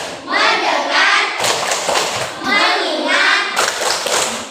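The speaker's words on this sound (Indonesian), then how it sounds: "Tepuk fokus" In a classroom, pupils beat out the 'tepuk fokus' clap routine together, sets of hand claps and desk-like thuds punctuating their chanted words in a steady, repeating rhythm.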